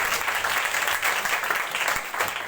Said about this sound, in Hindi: अब दोनों हाथों को मिलाएं, जोरदार ताली यीशु के जलाल के लिए।